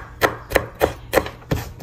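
Carrots being chopped with a knife on a board while preparing beef and shrimp siomai: five close, crisp, evenly spaced strikes, with no talking.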